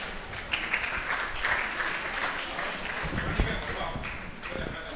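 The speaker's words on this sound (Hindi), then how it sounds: "सभी जोरदार तालियों के माध्यम से उनका स्वागत करेंगे।" Audience applause welcoming a guest at a Jain women's association gathering, steady clapping from a crowd lasting the whole few seconds at fairly even loudness, with voices mixed underneath.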